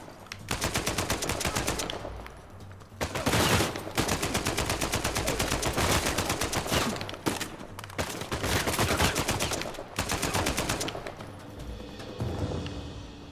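AK rifle bursts in Uncharted 4, loud rapid automatic fire in several long strings separated by brief pauses, sharp and close with no talking.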